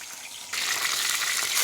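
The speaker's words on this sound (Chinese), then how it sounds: "我们现在去把它拿起去煎一下啊" Crucian carp drops into a salted, oiled pan and starts frying: a quiet lead-in gives way to a sudden, sustained bright sizzle that stays loud and steady to the end, with no talking.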